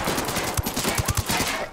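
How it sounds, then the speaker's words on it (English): A generator blows up in the shooter game Ghost Recon Wildlands, a loud burst of rapid, crackling bangs over dense noise, close and harsh. "Exploded a generator right then"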